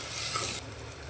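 Lentil masala rice mixture in a pot sizzles briefly while being stirred, with a soft hiss that drops off partway through.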